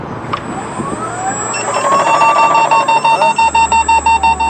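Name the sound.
Tesla car hardware alarm going off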